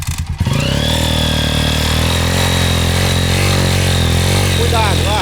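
A Honda XR 200 dirt bike on a trail sputters to life, then holds a loud, steady engine drone close by, the pitch rising slightly as it accelerates, with a voice speaking faintly beneath.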